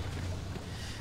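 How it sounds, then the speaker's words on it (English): A car engine in the video game Pacific Drive rumbles low and steady, its deep drone filling the whole second with a faint windy hiss on top and no talk. "Let's start the engine."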